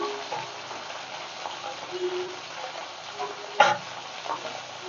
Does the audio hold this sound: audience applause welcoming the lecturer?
no